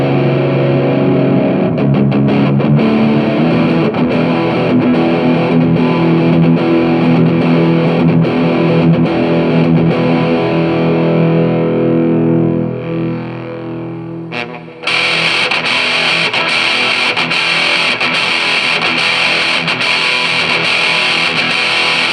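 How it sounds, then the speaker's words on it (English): Electric guitar played through a BOSS DS-1 distortion pedal, a thick sustained distorted chord ringing loud for about twelve seconds, fading and cutting briefly, then a brighter, harsher buzzing distorted tone holding steady to the end. "This is obviously a classic distortion pedal."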